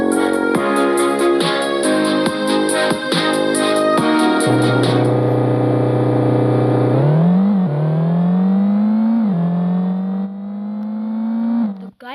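A car in a driving video game, with BMW and Tesla models, hums at a steady engine pitch, then revs upward through several rising surges. The synthetic motor tone is loud and close and carries on without speech.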